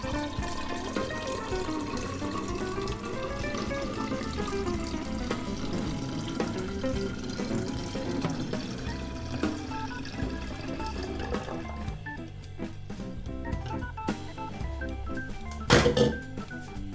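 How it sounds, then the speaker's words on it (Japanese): A homemade ginger lemon shot pours into an empty bottle, a quiet, continuous trickle whose gurgling tone rises and falls as the bottle fills, ending with a short clink near the end. "こんな感じの空のボトルに今日作ったものを流し込みます。"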